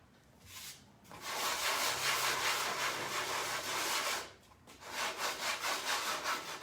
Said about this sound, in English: This side I'm gonna sand a little bit.